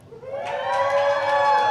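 Crowd at a Wild Wing Cafe cheering, a swelling burst of whoops and shouts that rises quickly and holds loud and close for a second or so.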